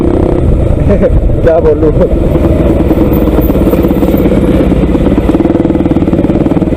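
A Pulsar 200 NS motorcycle engine runs loud and close in Jaipur traffic, a steady throbbing mid-pitched drone throughout, with someone talking briefly over it.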